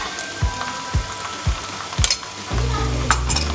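Onion with a paste of cumin, ginger and two or three garlic cloves frying in a pan for prawn masala, rhythmic stirring scrapes about every half second, then a louder steady sizzle takes over, close and without talk.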